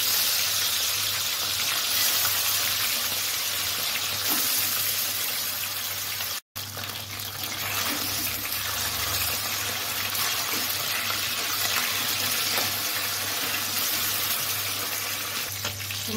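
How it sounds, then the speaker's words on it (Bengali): Small puti fish frying in hot oil for a Bengali chorchori, a loud, dense, continuous sizzle close by. It drops out for a moment partway through, then resumes and continues steadily, with no voices. "তেলটা গরম হয়ে গেছে, মাছগুলো ফ্রাই করে নেব।"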